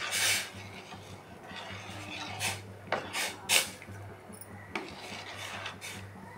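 Scraping and rubbing of a small spoon stirring vermicelli noodles boiling in a metal pot, with irregular clinks and rasps over a steady low hum.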